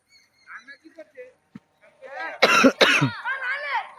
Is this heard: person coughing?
yes